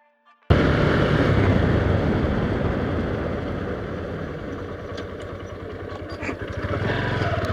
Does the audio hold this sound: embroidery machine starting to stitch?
no